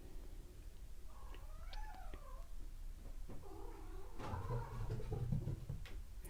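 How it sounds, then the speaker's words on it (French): A cat meows a few times, soft and drawn out, close by over a low steady background rumble. "C'est mon petit chat qui arrive."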